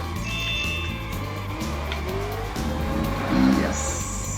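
A Ferrari races past in OutRun Online Arcade, engine roaring with shifting pitch, tires squealing in a skid and a louder surge near the end, all over a pulsing music track.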